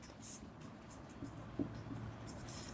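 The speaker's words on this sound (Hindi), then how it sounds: "तो हम लिखेंगे" Pen writing on paper while a math problem is worked out, faint soft scratching strokes with a small tap partway through, quiet and close.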